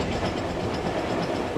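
A steam train hauled by a Stanier locomotive rolls past in steady, loud rumbling with faint clickety-clack of wheels over rail joints, continuous and close, with no voices.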